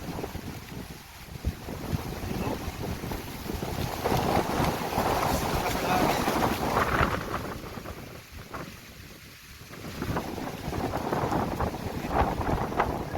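Strong wind gusting ahead of an approaching storm in the rural Philippine countryside, a loud roaring rush of wind noise that swells, dips briefly and builds again, with no voices.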